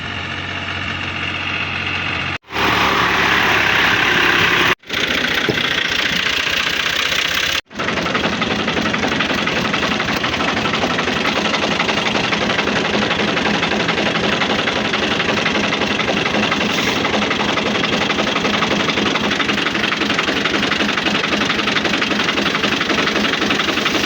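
Tractor engine running steadily at idle, a loud, close, continuous diesel rumble with a knocking texture, broken by a few abrupt cuts early on, no speech.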